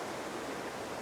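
Waterfall rushing in the background of a rocky landscape, a faint, steady broadband roar of falling water, constant and without voices.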